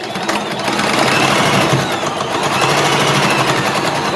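A sewing machine stitches a boxy bag, its needle running in a rapid, even mechanical chatter that holds close and loud throughout.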